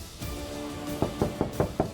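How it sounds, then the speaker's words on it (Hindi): Someone bangs on a door, a few faint thuds followed by a quick series of five louder, closely spaced knocks, with no voices. "हम कब से दरवाजा पीट रहे हैं"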